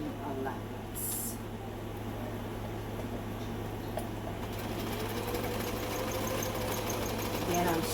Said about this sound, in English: Then I'm straight stitching, and I'm back tacking at the beginning.